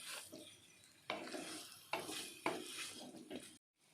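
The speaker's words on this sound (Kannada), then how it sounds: "2 ನಿಮಿಷ ಇದೇ ರೀತಿ ಫ್ರೈ ಮಾಡಿಕೊಳ್ಬೇಕು." Chicken coated in dry garlic masala fries in a pan while a spatula scrapes and stirs it, three distinct scraping strokes over a soft sizzle, fairly faint and close, ending in a brief silence.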